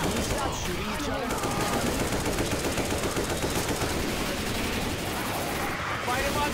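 Continuous automatic gunfire from players shooting each other in the Left 4 Dead 2 video game, dense rapid bursts filling the whole stretch with a voice talking faintly underneath.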